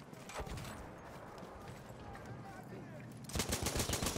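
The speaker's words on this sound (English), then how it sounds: "so many people were shooting at him" Gunfire in the video game Battlefield 1, dense bursts of shots crackling continuously over a noisy battlefield, swelling louder near the end.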